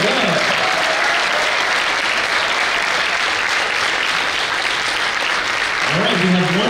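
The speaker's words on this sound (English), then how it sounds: "How about another round of applause for our fifth grade team?" An audience at a school spring band concert applauds a fifth grade band for several seconds in a steady, dense wash of clapping that fills the hall, with a voice speaking over it near the end.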